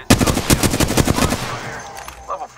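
Rapid automatic gunfire from the video game Apex Legends, loud, close bursts of fast repeated shots lasting over a second, then trailing off into quieter background game sounds.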